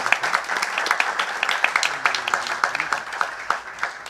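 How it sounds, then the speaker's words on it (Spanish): An audience at an academic conference applauds to welcome a speaker. The clapping is steady and dense and continues for several seconds, with faint voices underneath. "Les recibimos con un fuerte aplauso."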